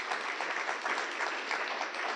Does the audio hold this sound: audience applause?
yes